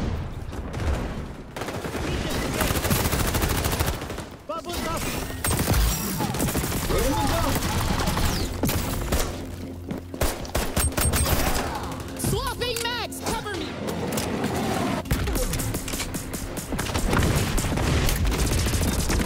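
An MP5 submachine gun firing in the shooter game XDefiant, with rapid bursts of gunfire and scattered other shots running through the match, mixed in with player chatter and game effects.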